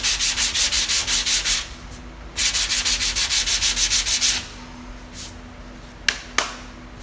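An auto body panel is straight-sanded and blocked by hand in two long bursts of quick, even rasping strokes, followed by a quieter pause and two sharp knocks.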